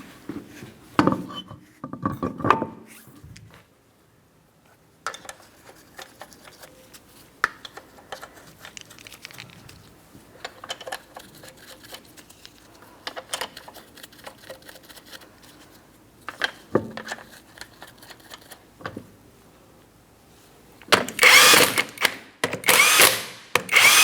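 A power tool spins 19mm lug nuts onto a rear wheel of a 2003-2007 Cadillac CTS, with intermittent short whirring bursts, clinks and handling noises, ending in loud sustained impact-gun rattling close by.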